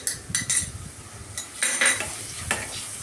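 Busy pan cooking: ginger and garlic paste sizzles low underneath while a spoon scrapes and clinks against the frying pan in short, irregular bursts.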